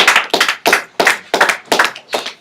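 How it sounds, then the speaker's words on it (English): A small group at a research presentation day claps in short, rhythmic bursts, about seven close, loud pulses in quick succession. "Let's give them a round of applause, guys."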